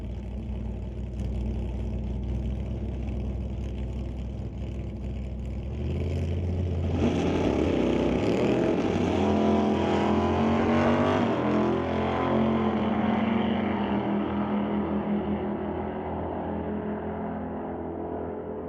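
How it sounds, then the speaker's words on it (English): Two drag racing cars, a Chevy II and a 1983 Monte Carlo, roar down the strip in a Super Pro race, a steady engine drone that swells louder and fuller midway and holds to the end. "Lorenz Schwartz drives around Warren Jacobson by about a bumper at the top end"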